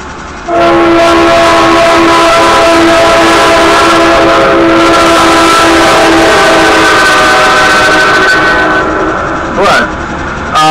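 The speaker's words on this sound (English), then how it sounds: "I hate these trains. God, they're so frequent," Nearby, a train rolls past for about ten seconds: a loud, continuous rumble layered with steady humming tones and wheel squeal, easing slightly near the end before a short sharp squeal.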